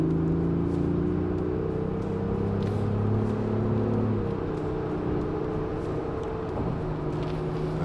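Cabin sound of a 2024 Lexus GX 550 Overtrail+ SUV under way: a steady engine hum with layered tones that shift in pitch as revs change, dropping near the middle, over constant road noise.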